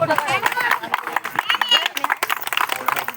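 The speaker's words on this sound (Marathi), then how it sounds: "जरा टाळ्या जोरात वाजू दे." People at a birthday party clap in fast, uneven rhythm, with loud talk and cheering over the clapping.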